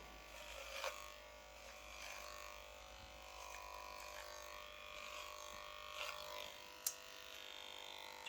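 Electric hair clippers buzz steadily and faintly while cutting hair, a low continuous hum with a few brief clicks and scraping touches, no speech.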